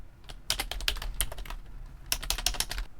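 Rapid bursts of computer keyboard typing, close and clear, in clustered runs of clicks with short pauses between them, no voices.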